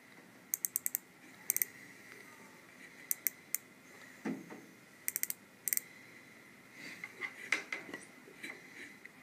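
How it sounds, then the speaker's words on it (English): Micrometer on a stand gives small, crisp ratchet clicks in quick clusters, close but faint, with light metallic handling noise between them. "Can you hear that clicking?"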